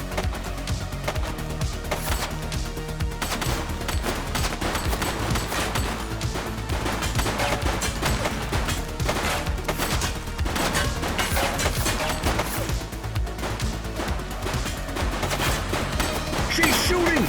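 Gunfire in the police game The Precinct rattles steadily throughout, dense bursts of shots overlapping with crashing impacts, loud and continuous, with occasional voices beneath.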